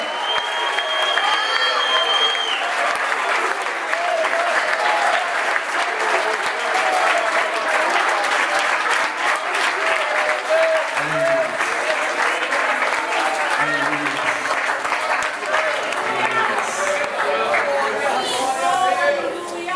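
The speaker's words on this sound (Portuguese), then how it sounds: "Se você quer, glorifica aplaudindo." A church congregation applauding in praise during a service, with long, steady clapping and crowd chatter and cheering mixed in, while a voice speaks over the noise.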